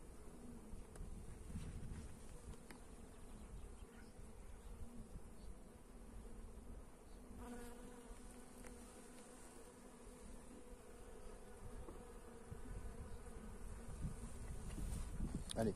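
Honeybees buzz steadily around an open hive while a beekeeper transfers brood frames and adds supers, a dense, continuous swarm drone close to the microphone, with no talking.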